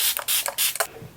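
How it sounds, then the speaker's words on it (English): Setting spray misted onto a face: three quick, crisp hissing bursts from a pump bottle, close to the mic, each followed by a faint click of the nozzle. "And then I'm also going to go in with another setting spray."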